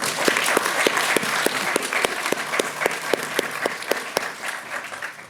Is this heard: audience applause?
yes